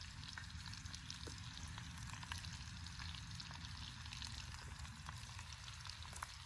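Rice and sausage heat in a camp pan, giving off a faint, steady sizzle and soft crackle that runs throughout with no talk over it.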